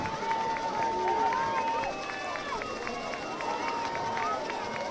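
A high school football student section cheers and shouts from a distance at a Haslett versus Portland varsity game, a continuous crowd roar with some sharper tonal calls layered over it.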